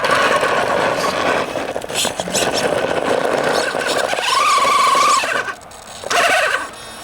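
Small 1/10 scale 4x4 RC rock buggy, a Capo ACE 1 after its first build, whining and revving loudly up close while its slipper clutch slips, with rising squealing tones and brief pauses between bursts.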